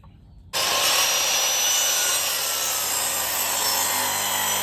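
A hand saw rasps steadily through wood making a bevel cut, starting abruptly after a quiet moment and continuing as loud, close, rapid back-and-forth strokes until the end.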